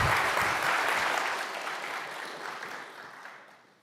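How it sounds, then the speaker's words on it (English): Applause for two presenters at a memorial teach-in, a steady round of clapping from a lecture audience that gradually thins and fades over a few seconds. "A final round of applause."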